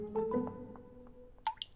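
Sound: water dripping from a leaking tap in a cartoon

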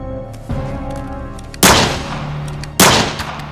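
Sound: gunshots in the video game The Pandora Directive

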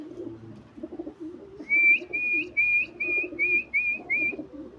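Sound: person whistling to call pigeons

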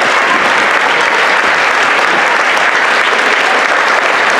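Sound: audience applause at a school band concert

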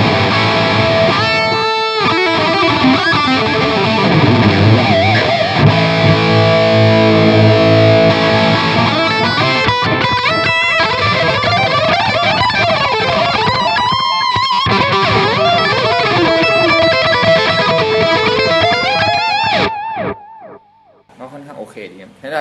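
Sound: electric guitar with Caline CP-19 Blue Ocean delay and distortion

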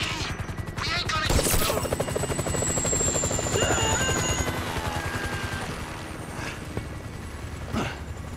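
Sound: helicopter approaching in the video game Grand Theft Auto V

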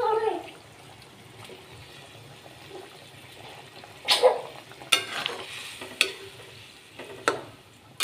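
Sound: eggs being stirred into sizzling masala for egg curry

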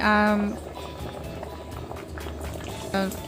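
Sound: rice boiling in milk for payesh

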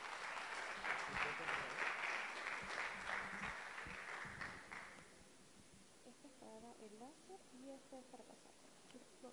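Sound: audience applause

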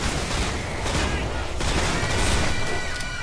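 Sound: powerful gun firing in video game Killing Floor 2

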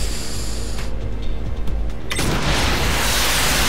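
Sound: explosion in video game Saints Row The Third

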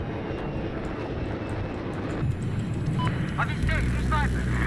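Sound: enemy airplane flying in a video game

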